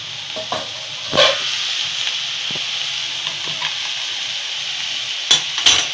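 Fenugreek greens cook in a pan with garlic, giving a steady soft sizzle broken by occasional scraping stirs and spoon knocks.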